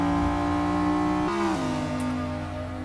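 A 1997 McLaren F1 GT engine at high revs in Forza Motorsport 6, a loud sustained tonal roar that drops sharply in pitch twice as it shifts down, then settles lower, no voices.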